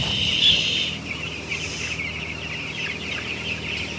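Broiler chickens cluck and chirp inside a closed-house coop in a dense, continuous chorus of many birds, with a low hum of ventilation fans underneath and no speech.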